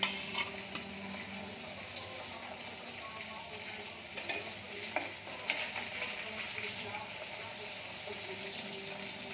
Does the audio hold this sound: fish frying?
yes